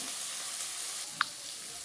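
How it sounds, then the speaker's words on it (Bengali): Onion, garlic and tomato fry in a pan with a soft, steady sizzle that runs throughout at low level, broken by one brief sharp tick near the middle. "পেঁয়াজ রসুন টমেটো সব কিছু আমার বেশ ভালোভাবে ভাজা হয়ে গেছে"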